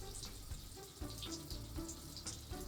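A water jet pump runs on tap water to speed up filtering a calcium hydroxide solution, giving a faint, steady rush of flowing water with soft rhythmic pulses.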